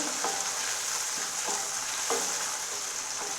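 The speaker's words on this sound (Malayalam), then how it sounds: "ഇത് നന്നായി ഇളക്കിയിട്ട് നമുക്കിതൊന്ന് റോസ്റ്റ് ചെയ്തെടുക്കാം" Ivy gourd with crushed garlic roasts in a pan as it is stirred, with a quiet steady sizzle broken by four or five regular scraping strokes of the spoon.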